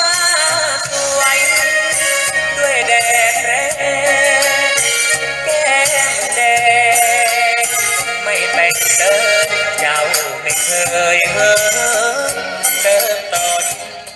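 Music plays through a tiny mixer with the mid range turned down so the treble stands out, loud and continuous for the whole stretch with no talking.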